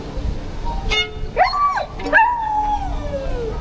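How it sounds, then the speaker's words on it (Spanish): Street dog in Bulgaria singing, a few sharp barks rising into long wavering howls and yips, close and fairly loud over light city background. "Es el perro cantante."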